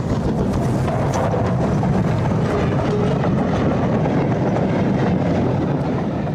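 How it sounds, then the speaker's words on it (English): A North British Class D34 steam train pulls into Crianlarich station in the Scottish Highlands, a steady rumble of moving wheels and carriages heard at moderate distance, without speech. "Here the train pulls into Crianlarich"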